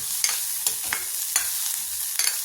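Onion and garlic frying in a pan over low heat, a soft steady sizzle broken by several sharp scraping stirs of a spoon against the pan, close by with no talking.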